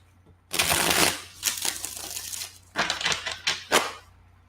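Papery riffling of tarot cards being shuffled in two close bursts, crisp and fairly loud, separated by a brief lull.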